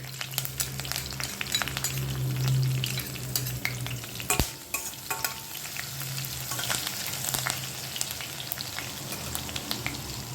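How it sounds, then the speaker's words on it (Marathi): Continuous sizzling and spattering crackles from dried chillies, curry leaves and crushed garlic frying in oil, fairly close, with one sharp knock midway and no talking. "त्यामध्ये वाळवलेल्या मिरच्या आणि कढीपत्त्याची पानं घालून घेऊ. ठेचलेलं लसूण घालते."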